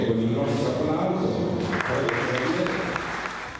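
Audience applause at a book presentation in the bishop's curia in Nola, a dense continuous patter of clapping throughout with speech running underneath.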